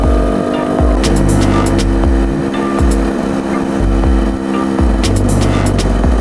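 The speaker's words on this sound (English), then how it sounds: "he's varying the RPMs, slower, faster, etc." A dirt bike engine in break-in on an off-road trail at Corkscrew Gulch in Colorado, revved up and down through varying RPMs. The close, loud engine rises and falls in repeated throttle swells with a throbbing idle between them.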